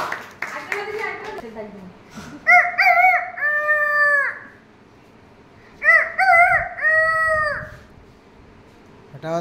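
A child at a students' summer camp imitates a rooster crowing twice, each a loud, drawn-out cock-a-doodle-doo close by. Clapping and children's voices surround the calls.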